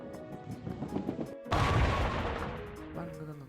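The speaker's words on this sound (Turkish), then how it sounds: "Bam patlıyor. Aynı kiraz etkisi veriyor." A cherry-bomb-style plant blast in the Plants vs. Zombies video game: one sudden loud boom that cuts in sharply after a brief hush, then a long, fading crash, with game music and scattered sounds underneath.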